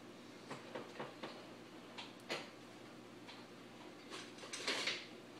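Faint clicks and light clatter from a kitchen drawer being opened and a spatula and other utensils being handled, a handful of soft, irregular knocks over a quiet room.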